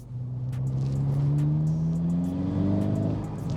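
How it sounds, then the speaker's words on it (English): A car engine with an aftermarket Trackslag exhaust revs up loudly and steadily, its deep exhaust note rising in pitch, close by and alone with no voices. "we've got a Trackslag exhaust on the car."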